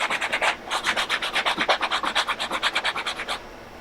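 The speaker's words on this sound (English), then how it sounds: "take your 120 grit sanding block" A 120 grit sanding block rubs by hand over filled screw holes in drywall, a quick rhythmic series of about twenty close, raspy back-and-forth strokes with no voices.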